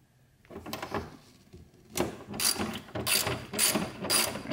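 A hand ratchet clicks in quick bursts while loosening tight 12 mm bolts on a Kia Stinger GT2 engine bay, close and fairly loud, with rhythmic pauses between strokes and no talk.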